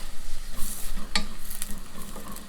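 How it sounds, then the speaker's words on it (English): Turkey gravy with a spoonful of liquid smoke stirred in, a short burst of close stirring and bubbling in the pot with one sharp spoon knock against the side, no speech. "Now we're going to stir that around."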